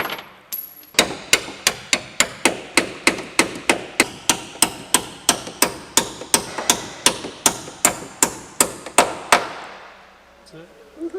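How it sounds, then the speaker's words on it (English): Hammer tapping a bullet into an airplane wing during wing installation on an old abandoned plane, about twenty sharp, evenly spaced metallic strikes at close range, ending in quiet. "So now you guys saw that we had a hammer in here"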